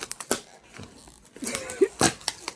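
Packing tape is torn and pulled from a box during an unboxing, heard as a few close, sharp ripping and crinkling bursts with brief pauses between them.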